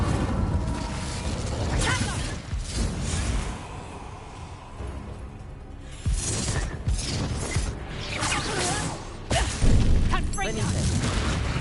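Incendio fire spell cast in a Hogwarts Legacy duel, loud whooshing bursts and crackling blasts amid clanking combat noise, with character voices and spell shouts heard over the effects.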